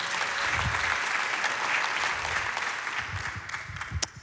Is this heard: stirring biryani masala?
no